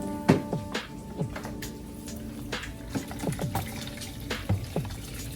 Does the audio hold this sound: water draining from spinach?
yes